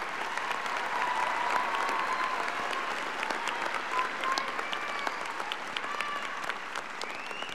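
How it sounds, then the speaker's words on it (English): A graduation crowd at Del Valle High School's Class of 2023 ceremony applauds the year's Conquistador recipients with steady, dense clapping that lasts throughout, with a few whistles and cheers rising above it. "How about a big round of applause for this year's Conquistador recipients?"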